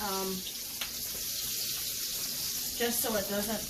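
Chicken frying in a cast iron skillet turned just under medium heat, giving a steady close hiss and sizzle throughout, with brief tonal clinks and a voice-like sound near the start and end.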